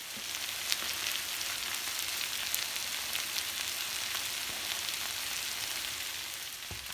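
Hashbrowns frying under a lid in a covered pan, a steady, even sizzle with fine crackles held at a constant level, close and alone with no voices.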